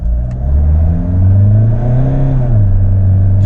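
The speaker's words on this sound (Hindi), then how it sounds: "अब हम इसमें लगाते हैं जूम मोड और देखते हैं एक्सेलरेशन कितना है" A Mahindra XUV700 in zoom drive mode accelerates hard, its engine rising steadily in pitch, then dropping briefly at a gear change before climbing again, loud and close from inside the cabin.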